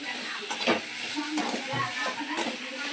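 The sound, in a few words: asafoetida frying in hot pan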